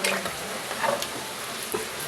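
Village-style country chicken curry being stirred in a pot after two glasses of water are poured in, giving a steady close wet scraping and faint simmering sizzle for about two seconds, with no talking.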